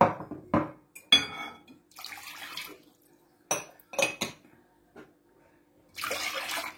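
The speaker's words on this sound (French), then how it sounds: "on va commencer par mettre de l'eau" Water splashing as it is poured into a bowl for sfenj doughnut batter, with clinking of dishes and utensils; several short bursts of pouring and knocking, close and fairly quiet, with a longer hissing splash at the end.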